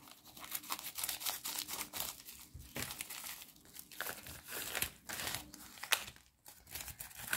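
Crinkly plastic AliExpress parcel packaging being torn open and handled up close, with steady crackling and rustling throughout and a few louder crunches.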